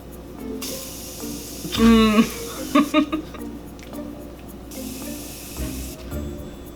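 Two short hissing sprays from a makeup setting spray bottle, close by, with a brief voice-like sound and faint background noise between them.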